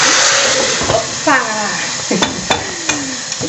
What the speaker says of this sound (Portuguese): a galinha fervendo